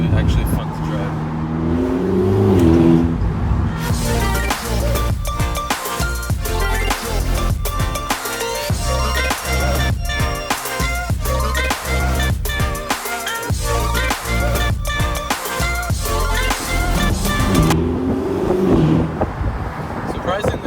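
A stock Ferrari California T engine rumbles loudly throughout, with a throaty idle at the start and end and a stretch of busy revving and gear-like pulses in between; no one speaks.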